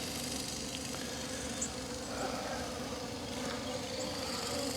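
Returning honeybees hum softly around the hive entrance, a faint, continuous buzz with a few small ticks scattered through it.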